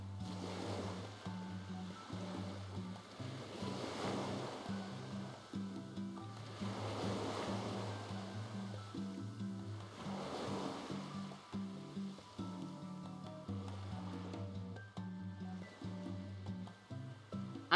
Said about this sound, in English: the only way to turn the waves down is this